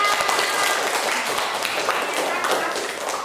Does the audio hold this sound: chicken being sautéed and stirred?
no